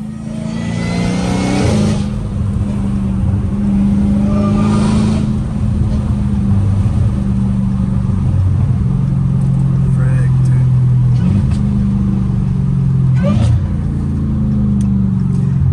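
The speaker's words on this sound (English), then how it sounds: "the exhaust is too loud, bro." A Dodge Hellcat's loud aftermarket exhaust rumbles close by at a deep idle, with sharp throttle blips around two and five seconds, then a sustained heavy drone.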